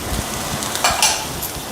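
Beans, capsicum, cabbage and green chili sauté in a pan for fried rice, a soft continuous sizzle broken by a few scraping stirs and clinks of a utensil, with no talking.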